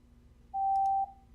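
A buckling spring keyboard gives a single clean, steady electronic beep of about half a second when it pairs with a phone. The beep sits over a faint background hum.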